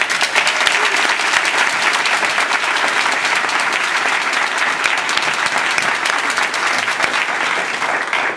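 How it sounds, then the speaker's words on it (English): Audience applause fills the hall at a District 30 Toastmasters fall conference speech evaluation contest, a loud, dense, continuous patter of many hands clapping throughout. "So give yourself a round of applause."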